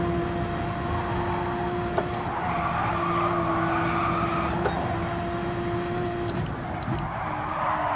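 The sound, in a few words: car tires skidding in Gran Turismo 7 race, video game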